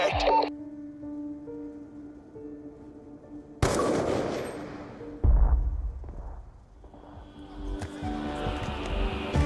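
Gunfire in the video game Call of Duty Black Ops 2: a couple of sharp, loud blasts and bursts ring out over a steady, droning game score, with a rumbling tail after each shot.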